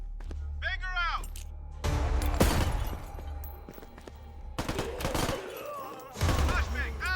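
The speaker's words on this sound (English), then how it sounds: "Flashbang out." A flashbang grenade bursts in Door Kickers 2 with a sharp crack and ringing tail, followed by further loud bangs and impacts over about seven seconds, with a voice speaking amid the blasts.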